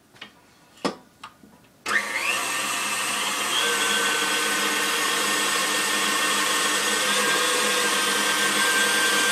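Sour cream donut batter being blended, starting with a few light clicks and taps, then an electric mixer whirring to life and running at a steady, loud, even hum until the end.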